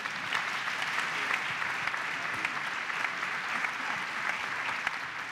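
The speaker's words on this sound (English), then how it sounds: "are we not excited to be here by way of applause?" An audience at an Arkansas speaking event with Madeleine Albright gives steady, continuous applause, a broad wash of clapping that neither swells nor fades.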